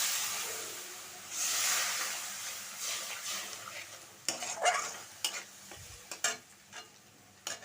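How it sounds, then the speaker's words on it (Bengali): A little water goes into a hot pan of spices for a kohlrabi, potato and prawn curry, setting off a brief surge of hissing sizzle, followed by quieter sizzling and sharp scraping clicks of stirring. "একটু সামান্য জল দিয়ে দিচ্ছি"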